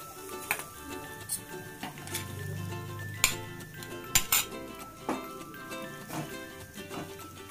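Prawns tandoori being basted with butter in a pan, with light sizzling under repeated sharp metal clinks and scrapes of a utensil against the pan, irregular and close, no talking.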